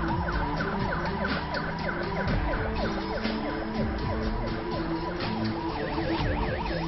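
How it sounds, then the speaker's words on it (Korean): Ambulance sirens wail continuously, several overlapping rising and falling tones over steady traffic rumble, fairly distant and unbroken throughout. "이민호가 검거된 후 신수경을 싣고 갈 구급차가 도착했습니다"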